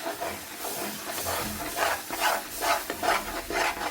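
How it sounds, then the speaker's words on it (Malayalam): A spoon stirs mashed banana jam in a pan over the heat, giving a soft, continuous scraping and rubbing with a gentle sizzle, close by and steady for several seconds. "ഇനി നന്നായി ഇളക്കി"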